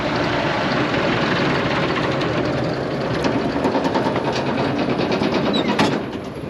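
A Massey Ferguson 590 tractor engine idles steadily nearby, a continuous low rumble with rapid knocking pulses.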